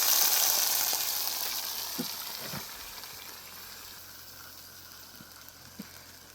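Eggplant (brinjal) pieces frying in hot oil, a steady close-up hiss and sizzle that gradually quiets, with a few soft clicks and stirring taps of a utensil.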